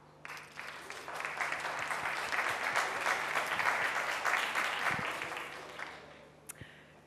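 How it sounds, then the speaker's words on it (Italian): Audience applause fills a studio theatre stage at a televised talent-contest final in Turin, a dense steady burst of clapping lasting several seconds before tapering off, with no talk over it. "facciamo un grande applauso"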